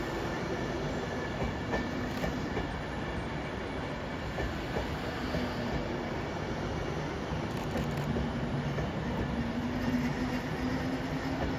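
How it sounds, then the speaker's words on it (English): Freight train passing through Wilmslow station, a continuous, steady roar of wheels and wagons rumbling by nearby for the whole stretch, without talk. "Just waiting for this freight train, really."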